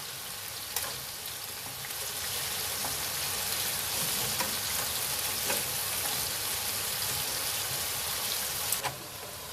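Chicken and vegetables for fajitas fry and sizzle in a pan, a steady loud crackling hiss with scattered spatter pops and occasional stirring knocks, and no one speaking.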